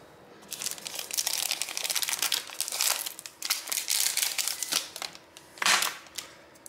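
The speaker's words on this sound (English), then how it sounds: "Now get some double-sided tape." Double-sided adhesive tape handled during a Samsung Galaxy S10e battery replacement gives close, crisp crinkling and peeling rustles in dense bursts, alone with no talk.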